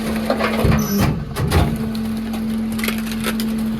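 A garbage truck's hydraulic compactor crushes a glass-fronted Starlink router, giving close cracking and splintering crunches over a steady mechanical hum, with the loudest breaks early and a quieter grinding afterward.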